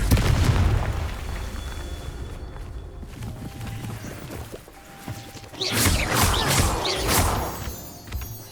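Confringo fire spell explosions in Hogwarts Legacy, a deep booming blast at the start, then a quieter stretch with faint footsteps, followed by a second heavier burst of crackling booms that rolls and fades.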